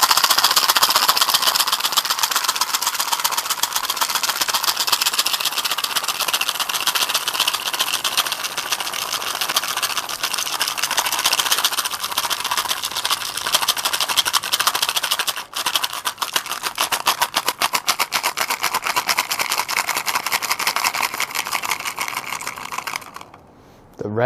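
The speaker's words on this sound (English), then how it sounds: "The rattle is a powerful tool of healing, just one of our sound instruments" A healing rattle used as a sound instrument shakes in a dense, continuous, fast rattling that stays loud and close for over twenty seconds before stopping abruptly near the end.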